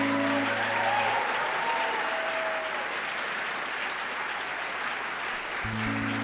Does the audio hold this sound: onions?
no